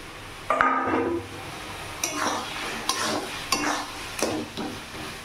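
Potatoes stirred into a pan of Bombay duck fish curry with softened tomatoes, a spoon scraping and knocking against the pot in several separate strokes, close and moderately loud with no talking.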